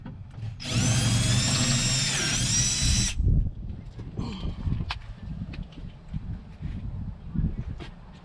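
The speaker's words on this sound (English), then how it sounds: "So now I just got to drill the outside." A power drill bores out a rivet on a 1998 Ford Explorer 4.0 passenger window regulator, whining loudly for about two and a half seconds. Knocks, clatter and faint handling noises follow.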